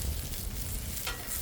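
Chicken pan-fries in shallow oil with a steady, close, loud sizzle and no voices over it.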